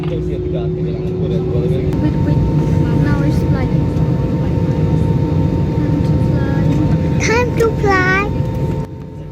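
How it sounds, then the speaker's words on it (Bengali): Inside the cabin of an airliner on an Abu Dhabi to Dhaka flight, a loud, steady engine and ventilation roar fills the cabin as the plane begins to taxi. Brief higher whines and chirps come through near the end. "এই মুহূর্তে বিমানটি চলতে শুরু করলো"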